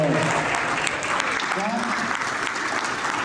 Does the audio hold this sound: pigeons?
no